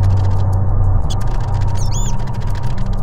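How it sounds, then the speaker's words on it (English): Rat squeaks in Metal Gear Solid The Twin Snakes, a few short high chirps sounding over a steady low game hum and rumble, with no talk. "I remember as a kid trying to catch the rat."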